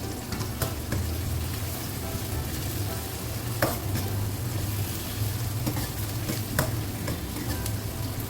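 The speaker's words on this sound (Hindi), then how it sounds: "फ्लेम थोड़ा सा तेज़ कर लेते हैं ताकि प्याज हमारी जल्दी ब्राउन हो जाए।" Steady, dense sizzling of onions frying in a hot pan over a raised flame, with occasional sharper crackles and pops over a constant hiss.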